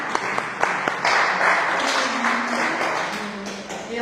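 Audience applause at an October 2012 art exhibition presentation, a dense patter of clapping from a modest crowd sustained steadily throughout, with a few sharper nearby claps standing out early on and faint voices mixed in.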